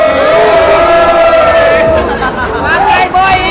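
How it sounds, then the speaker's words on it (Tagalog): A large crowd at a pickup-line battle event at SM North mall shouts and cheers loudly and continuously, with voices blending into a roaring mass. "kaya natin ang palakpak kay Boy Julius muna"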